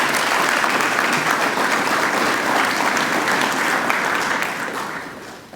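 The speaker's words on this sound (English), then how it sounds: "Please, can we give all the recipients a big round of applause?" Loud, dense applause from a school assembly audience at The Heritage School senior department colours assembly, sustained and even for several seconds before tapering off at the end.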